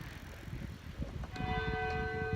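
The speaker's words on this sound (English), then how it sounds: "the bells are going off. Actually, it's just the clock tower" A church clock tower bell begins ringing with a sustained metallic tone, heard from inside the church over a murmur of low background noise.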